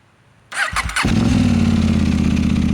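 A KTM Duke 890 GP motorcycle fitted with a VLAF exhaust cranks with a short starter whir, catches and settles into a steady, loud, throbbing idle, recorded close by with no one speaking.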